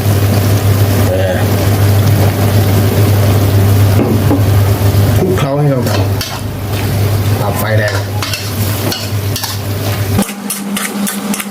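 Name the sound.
stir-frying spicy wild boar with oyster sauce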